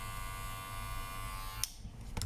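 A cordless American Barber Clipmaster hair clipper runs with a steady, close electric buzz that cuts off abruptly near the end, followed by a couple of faint clicks.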